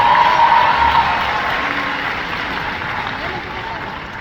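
Graduation ceremony audience applauding during a speech, a broad roar of clapping and some cheering in a large room that slowly tapers off.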